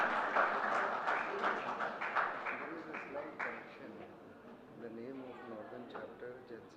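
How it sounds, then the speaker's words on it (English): An audience at an architects' valedictory session applauds the Jharkhand chapter, steady massed clapping with people talking through it, fading slightly toward the end. "Let us all give them a very, very loud round of applause"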